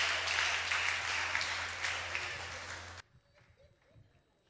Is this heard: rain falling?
no